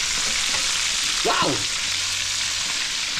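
Food fries in a pan with a constant, loud, close sizzling hiss, and a brief exclamation from a voice rises over it midway.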